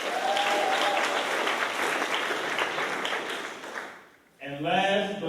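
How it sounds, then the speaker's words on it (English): An audience gives a sustained round of applause for the organizers and venue hosts at a Martin Luther King community event, steady and full before fading out, after which a voice begins speaking. "So clap it up for them."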